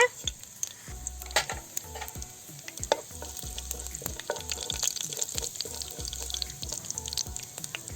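Mustard seeds and cumin sizzle and crackle in hot oil for a coconut sambar, with repeated sharp pops and spoon scrapes over a steady frying hiss, close and fairly loud with no talk.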